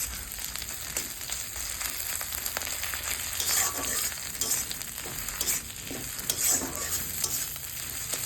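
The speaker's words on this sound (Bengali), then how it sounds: "আদা রসুন আর কাঁচা লঙ্কার পেস্ট দিয়ে নাড়তে থাকছি" Ginger, garlic and green chili paste stir-frying in a pan for Bengali-style katla fish kalia, a steady close sizzle with repeated scraping strokes of a spatula, no talking.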